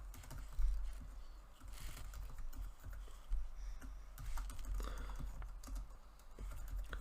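Rapid, quiet tapping on a computer keyboard while Java code is entered, irregular bursts of soft clicks with a few heavier keystrokes, close and alone with no talk.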